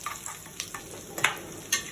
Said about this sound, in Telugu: ఇవి వేగుతున్నాయి.